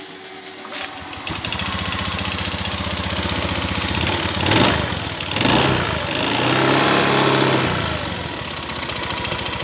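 An engine sputters to life and settles into a steady, rumbling idle with a mechanical clatter, running loud and close with no talking.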